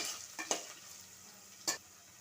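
Ginger-garlic paste frying in a pan, a faint, hissing sizzle with a few quick spoon scrapes, two of them standing out, heard up close at low volume.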